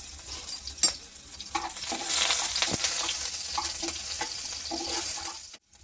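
Onions with spices fry in a wok, making a moderate crackling sizzle with scraping stirs and small utensil clinks throughout, close by and without speech.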